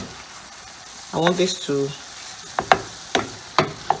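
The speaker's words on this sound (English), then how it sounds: "So you just continue to stir till the moisture gets dried" A couscous mixture is stirred in a pan until its moisture cooks off, giving a steady frying sizzle with sharp spoon scrapes toward the end, while a voice speaks briefly over it.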